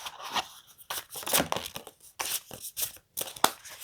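Tarot cards being shuffled by hand, a close series of irregular papery riffles and slaps with short pauses between bursts.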